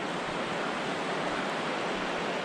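A river flowing beside a hiking trail, heard as a continuous broadband rush of water, close and steady with no break.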